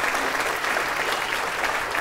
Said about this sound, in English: Let's have a round of applause as they...